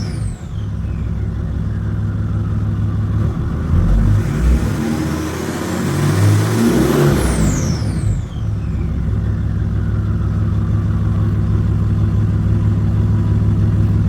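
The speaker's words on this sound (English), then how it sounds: "The intake sounds really good in this car" A Mercedes diesel drift car engine revs up hard with a rising intake whoosh and whine, then settles back to a steady loud drone, close and continuous.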